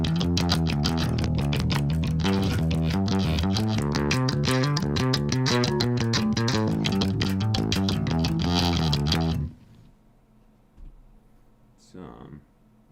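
Guitar plays the fast riff of a song without distortion, a steady rapid run of notes for about nine seconds before stopping abruptly, followed by quiet room noise and a brief voice.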